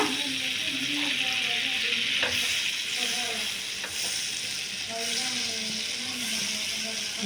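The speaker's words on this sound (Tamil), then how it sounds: "இதில் கொஞ்சம் சீஸ் சேர்த்துருக்கேன், பட்டர் சேர்த்துருக்கேன். இது உருகட்டும்." Butter and cheese melt and sizzle in a pan for pizza topping, a continuous loud crackling fry with occasional soft scraping, and a voice talks underneath.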